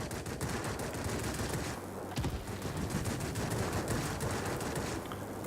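An F4U-4 Corsair in World of Warplanes fires its guns in dense, continuous rattling bursts over loud engine roar, with one short pause midway before the firing resumes.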